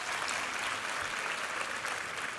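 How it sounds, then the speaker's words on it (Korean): Church congregation applauding during a Sunday worship service, a dense, even roar of clapping that holds steady throughout, loud and close with no voices over it. "우리 하나님께 감사와 영광의 박수 올려드리겠습니다"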